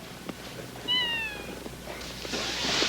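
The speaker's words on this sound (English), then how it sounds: "Oh, it's a cat." A cat gives a single clear, short meow near the middle, fairly close, against a quiet room with faint background noise and a soft rustle afterward.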